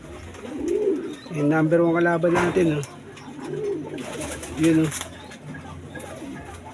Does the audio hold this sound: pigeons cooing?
yes